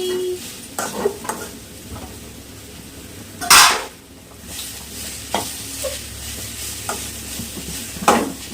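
Coconut chutney being stirred in a pan, with close scraping strokes over a low sizzle, a sharp metallic clatter midway, and a few lighter clinks of utensils toward the end.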